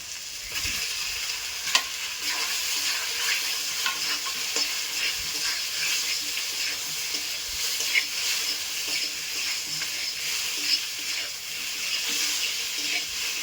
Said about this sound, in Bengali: এবার আমি কচুগুলো দিয়ে দিচ্ছি